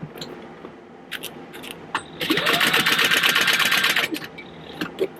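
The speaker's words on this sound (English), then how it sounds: "So I put a heavier needle in to do all of my top stitching." A sewing machine with a heavy needle sews top stitching around a fabric purse, a fast close whir that runs for about two seconds between scattered handling clicks, with no talking.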